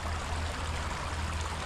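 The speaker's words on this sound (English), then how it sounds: "coming down the stream out to the river." A Costa Rican stream rushes steadily toward a river, a dense, even wash of flowing water heard close and alone, with a low constant rumble beneath the bright babble.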